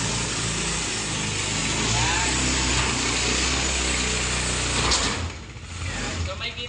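A 300cc 4x4 ATV with a hydraulic dump bed idles loudly and steadily up close, its engine drone filling the first five seconds before dropping slightly as the hydraulic dump engages.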